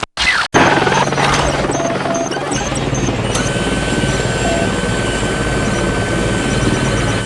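An Apache helicopter drones loud and steady in a video game after a brief burst of noise and a moment of silence, its rotor and engine forming a continuous roar with a thin whine running through it.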